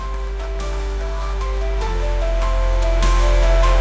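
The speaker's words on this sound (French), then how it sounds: "Est-ce que nous pouvons encore continuer d'applaudir" A church congregation applauding at a Christian service, a broad continuous wash of clapping that swells louder toward the end.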